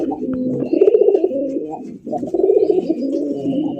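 Pigeons cooing at a bustling pigeon market where racer, golla and giribaz birds are sold, soft throaty coos repeating close by over a faint background.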